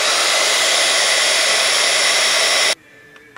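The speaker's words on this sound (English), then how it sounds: "I'm going to put some white embossing powder on it. Okay, and then I'm going to heat it up." A heat tool blows loudly and steadily while melting white embossing powder on a handmade reindeer place card, then cuts off abruptly, leaving near silence with small handling sounds.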